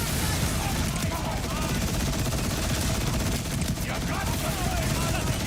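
Sustained SMG fire in the video game Borderlands 4, a loud and dense stream of rapid shots that barely lets up, with a brief dip in intensity midway before the barrage resumes.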